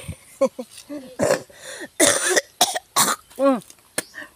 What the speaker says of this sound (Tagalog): May ubo ako nga guys ngayon.